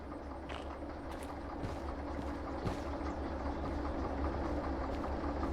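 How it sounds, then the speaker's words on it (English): A D2 diesel locomotive engine from a train video game runs with a steady, droning rumble and idle-like hum, constant in level throughout with no talking. "I mean, it's a diesel engine, right?"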